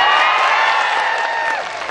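Loud applause and cheering from a large crowd at a Dasara rally at Bhagwangad, filling the clip near and dense, then easing slightly toward the end.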